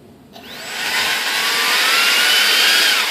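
A Durafly DH 100 Vampire MK 6 electric ducted fan spools up from quiet into a loud, steady high-pitched whine with a rushing airflow roar, holding at throttle after a rising tone at the start.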